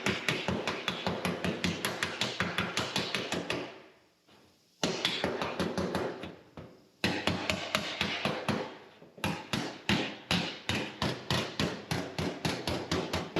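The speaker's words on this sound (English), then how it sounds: "I'm going to hammer that a bit more." Repeated hammer blows ring against sheet metal on a car body being cut down and welded, a steady rapid rhythm close up, pausing briefly twice before resuming.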